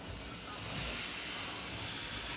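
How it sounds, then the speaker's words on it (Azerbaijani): Fried vermicelli tipped into a hot pot sizzles in a loud, steady hiss that swells after the first half second and holds, then cuts off sharply at the end. "Və qovurduğum vermişili üzərinə əlavə edirəm."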